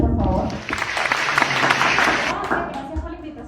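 An audience applauds the special guest Alinair Ramos with brisk, dense clapping from a nearby crowd that lasts a few seconds, and voices are heard over the applause.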